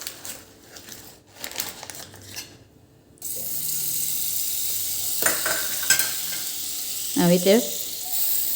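Butter sizzles in a nonstick pan over a gas flame for toasting pav buns, a steady hissing fry rising after a few seconds of quieter scraping, with a voice speaking briefly.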